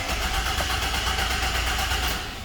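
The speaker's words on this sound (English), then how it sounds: "you can hear the engine turning over" A 2001 Chevy Silverado engine cranks steadily on the starter, a rapid rhythmic churning that is loud and close and runs without catching, then eases slightly at the end.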